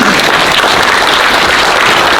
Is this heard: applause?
yes